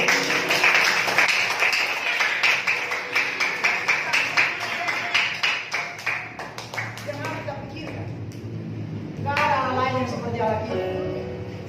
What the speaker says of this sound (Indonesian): Mari tepuk tangan buat Tuhan kita